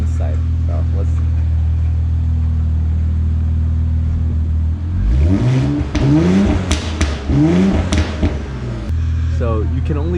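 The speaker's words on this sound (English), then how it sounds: "That's the AMS lower downpipes paired with the MBRP 3-inch catback exhaust paired with the Burble tune from Racebox." An Infiniti Q50 with AMS downpipes, an MBRP 3-inch catback exhaust and a burble tune starts at a deep steady idle, then gives several sharp rev blips with crackling burble. Voices talk faintly underneath.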